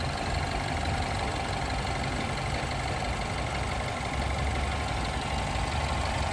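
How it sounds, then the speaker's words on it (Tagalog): A BMW 116i with the N13 direct-injection engine idles steadily up close, a constant low rumble with a fine ticking texture, loud and unbroken with no talking. "Engine started."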